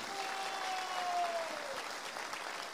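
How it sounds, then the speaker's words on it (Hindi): Warm audience applause at a network marketing seminar, steady moderate clapping lasting a few seconds, with a faint sustained tone sliding downward beneath it. "मैं चाहता हूं एक जोरदार ताली हमारे गुरुदेव मिस्टर शिव कुमार सर के लिए होना चाहिए"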